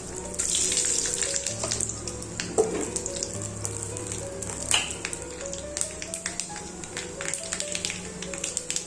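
Cloves, cinnamon and mustard seeds sautéing in a pan, with a soft sizzle broken by frequent sharp pops and utensil taps close by.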